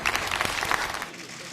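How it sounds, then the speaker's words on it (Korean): A political meeting's audience applauds to welcome the justice minister, a short burst of crowd clapping heard under and around speech. "여러분 큰 박수로 환영해 주십시오"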